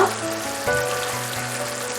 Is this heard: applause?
no